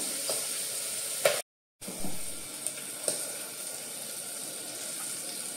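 Green peas hit hot spiced oil tempering for vangi bhaat, making a steady close sizzle. The frying cuts out for a moment, and small stirring clicks come through the hiss.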